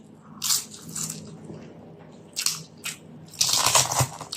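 Close eating sounds of chewing camel meat curry with ghee rice: a few moist biting and crunching bursts, irregular and fairly near, with a low steady hum underneath and no talking.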